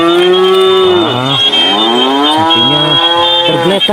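A loud, nearby cow gives a long, wavering moo that bends up and down in pitch, heard on its own.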